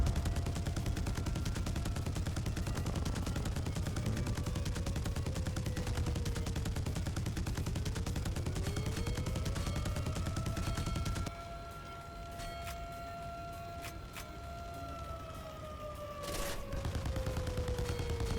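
Machine gun fire in a War Thunder-style game played in Roblox: a continuous fast rattle of automatic fire runs under a droning engine hum and a rising whine, briefly easing before resuming, heard fairly faint throughout.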